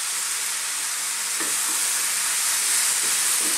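Frozen mixed seafood of clams, shrimp and squid hits a pan of curry masala with a loud, continuous hissing sizzle and a few soft stirring knocks, close and without talk.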